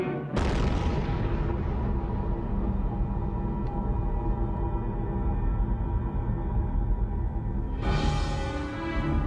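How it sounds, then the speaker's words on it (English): The Mike thermonuclear test explosion at a Pacific atoll arrives as a sudden deep boom that becomes a long, loud, sustained roar and rumble, with a second surge near the end. "its first super bomb, a thermonuclear device with a human name, Mike."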